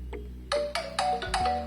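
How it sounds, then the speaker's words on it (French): A phone ringing after being triggered by the find-phone feature on an Honor Band 9 smartwatch, a short series of repeated bright tones, close and clear with no talk. "Vous entendez, il sonne."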